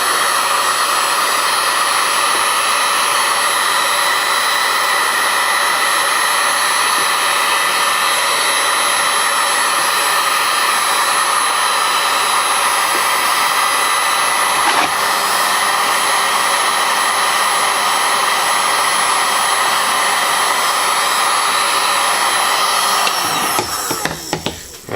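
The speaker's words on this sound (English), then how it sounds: "one of the best ways I find is to take a heat gun, like this" A heat gun blows steadily and loudly at close range to warm the label of an NES cartridge. The harsh, constant airy roar holds for about 25 seconds and sputters briefly as it shuts off at the end.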